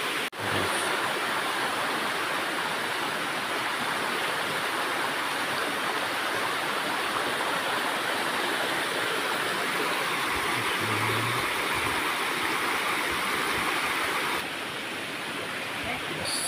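Kaigangan Falls in Barbaza, Antique, pouring steadily, a dense continuous rush of falling water heard up close with little change throughout.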